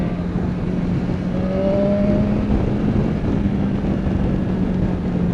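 A BMW S1000XR motorcycle accelerates hard through the gears, its engine note rising and shifting in a continuous loud drone mixed with heavy wind noise, with no voice over it.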